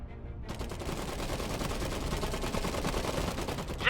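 A heavy machine gun in the alternate-history WW1 strategy game Iron Harvest fires a sustained, dense rattling burst that starts abruptly and continues loud and unbroken to the end.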